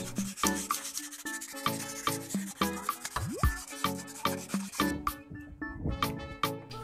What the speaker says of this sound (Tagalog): Gumamit naman tayo ng liha para gumaspang ang rotors.